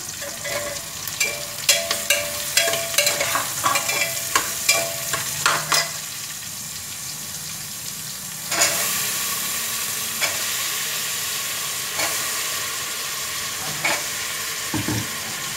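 Shallots, curry leaves, coriander and chopped vegetables sauté in a pan for Pongal kuzhambu, with a steady sizzle under repeated scraping and stirring clicks of a spoon, loud and close, stirring thinning out midway while frying continues.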